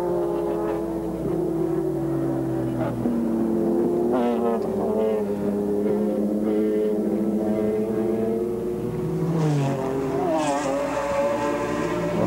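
A 1996 McLaren GT1 race car engine revs up and pulls out of the pit lane during a BPR Global GT race in Curitiba, Brazil. The note is loud and close and rises through rapid gear changes, with more car noise from the circuit behind it.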